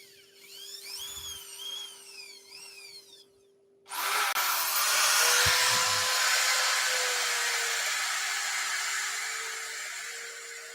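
A wood lathe turns a yew hollow form, starting abruptly as a loud, continuous broadband whirring rush that holds steady and then eases slightly. Faint high, sweeping chirps are heard before it starts.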